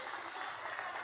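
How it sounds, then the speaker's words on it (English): Distant, faint applause from a large campaign rally crowd in Las Vegas, Nevada, a soft, even wash of clapping with no distinct individual claps. "let's applaud our first-time voters and our young leaders"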